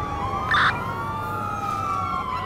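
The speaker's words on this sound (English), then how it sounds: "This is what the siren sounds like" A wailing ambulance siren in the video game Watch Dogs 2 sweeps up and down steadily over a constant engine-like hum, with a short bright electronic blip near the start.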